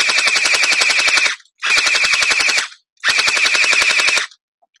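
Three long bursts of rapid full-auto fire come from an HGOC M4 WASP gel ball blaster, loud and close, each lasting over a second with short gaps between.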